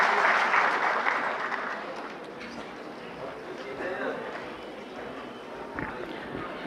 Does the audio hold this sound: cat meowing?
no